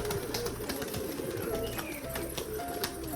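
A pigeon that has just been released coos softly a few times over a steady background hum, while faint rustling movement sounds nearby.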